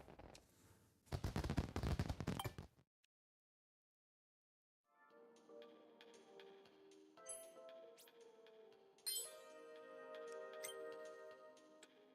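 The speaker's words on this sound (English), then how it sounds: "Those fireworks went up way high, huh?" Fireworks in the Nintendo Switch 2 Welcome Tour game: a dense burst of crackling pops, then silence, followed by bright sparkling chimes and tones that ring out and layer over one another.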